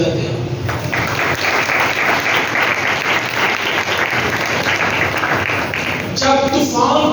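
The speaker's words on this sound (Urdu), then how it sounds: "تالیاں بجاتے ہیں۔" Church congregation applauding during a Sunday service sermon, dense sustained clapping from many hands filling the room for several seconds, loud and close.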